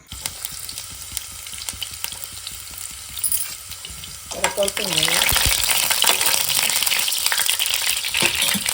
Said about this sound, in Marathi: आता लसूण टाकूया